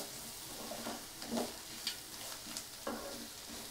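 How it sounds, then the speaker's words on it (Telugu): Prawns fry Andhra style in a pan over a medium flame, giving a steady close hiss of sizzling oil broken by a few sharp scraping stir strokes at uneven intervals, with no talking. "ఇలా తిప్పుకుంటూ వేయించుకోండి."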